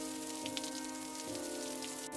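Light rain in a cartoon story about a handi mutton cart seller, falling as a steady soft patter with a few scattered drops, over a constant tonal background with no voices.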